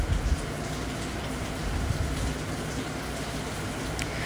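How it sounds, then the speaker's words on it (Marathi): Rain falls outside in a steady, even hiss that carries on unbroken and at a moderate level throughout, with no talking. "बाहेर मस्त असं पाऊस येतोय"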